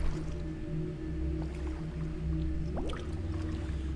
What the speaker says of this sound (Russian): Булькает что-то.